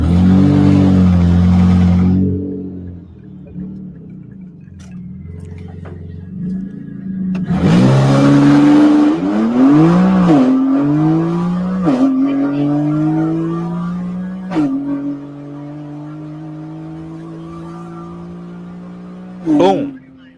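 A car making 800 wheel horsepower revs hard on a dyno, its engine note climbing through repeated rising sweeps and gear pulls, loud and close, ending with a sharp burst.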